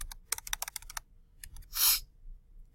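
Keys being tapped on a handheld calculator while working out a sector arc length, a quick run of light plastic clicks followed by a brief louder burst, close and clear with no talking.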